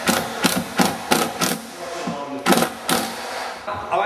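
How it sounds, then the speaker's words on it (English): Screws driven one after another through pre-drilled holes into a kitchen cabinet during installation, a series of about eight short, loud, evenly spaced bursts from a cordless driver, close by with no talk. "I pre-drill up under here, and I'm going to run my screws through here,"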